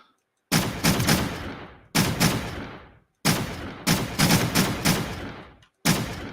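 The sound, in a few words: pistol gunfire in a video game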